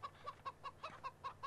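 Chickens in the video game Farming Simulator 17, on the Goldcrest Valley map, cluck in a steady, evenly spaced series of short, soft calls with no talking.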